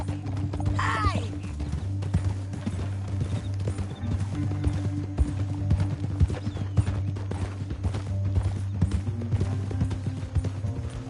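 Horse hooves clip-clop steadily in the video game Red Dead Redemption 2, a fairly quiet, continuous trotting rhythm over a low hum of game ambience, with no talk.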